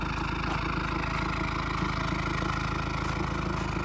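A car exhaust idles loudly with a steady, deep rumble, a continuous throaty drone with no voices.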